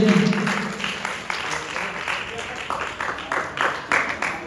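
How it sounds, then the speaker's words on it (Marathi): Audience applause at a school award function, uneven hand clapping from a nearby crowd that rises and falls in bursts, mixed with talking. "लावण्य बिलेकर साठी जोरदार टाळ्या."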